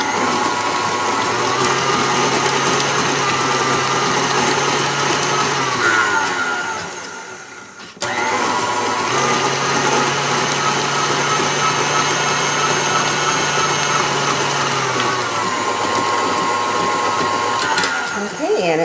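An electric mixer whirs at slow speed through a cream cheese brownie topping, a loud steady motor drone that cuts out briefly and starts again, with a voice talking over it.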